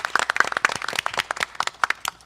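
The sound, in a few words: audience applause for a speaker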